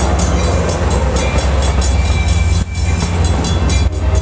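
An Amtrak, Coaster or Metrolink passenger train rumbles past loudly and close, a steady heavy roar of wheels on rails with faint rhythmic clatter throughout.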